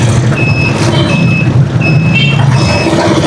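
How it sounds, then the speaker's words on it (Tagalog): Loud, steady road traffic rumbles with a truck's reversing beeper sounding in a regular on-off pattern over the engine drone, heard from a motorcycle in the thick of the traffic. "Traffic, traffic."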